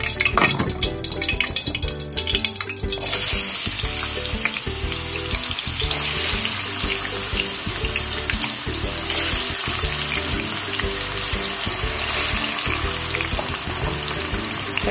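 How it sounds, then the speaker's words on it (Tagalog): Potato pieces fry in hot oil for a Filipino ground-meat omelette, a continuous bubbling sizzle with watery crackle, loud and close, plus occasional pan clatter. "Ipiprito muna natin yung ating patatas."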